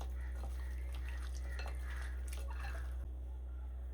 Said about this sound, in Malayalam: നമുക്ക് ഉപ്പ് ഒന്നുകൂടി നന്നായി മിക്സ് ചെയ്ത് കൊടുക്കാം.